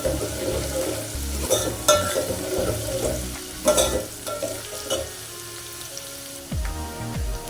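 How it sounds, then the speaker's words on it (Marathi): Chopped onions sauté in hot oil in a pan for Kolhapuri misal, with a loud close sizzle and repeated scraping and stirring of a spatula, a pause near the end, and no talking. "कांदा थोडासा गुलाबी होईपर्यंत ह्याला आपण छान असे परतवून घेणार आहोत"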